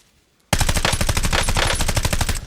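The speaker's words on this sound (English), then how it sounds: "I literally just didn't stop shooting" Continuous automatic gunfire in Warzone erupts after half a second of near silence and then holds as a fast, evenly spaced, loud stream of shots until the clip ends.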